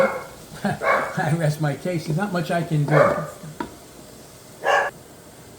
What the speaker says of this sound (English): my dog is having a couple of problems lately, so if you hear him barking